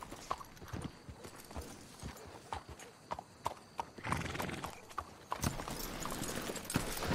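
Steady clip-clop of horse hooves at a walking pace in Red Dead Redemption 2, fairly close, with a brief whinny and some rustling in the background.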